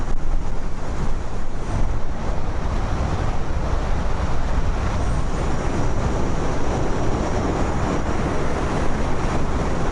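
Strong wind buffets the microphone on an open ride past Kern County Raceway, a steady loud low roar with gusty rumble filling the whole stretch, no voices heard.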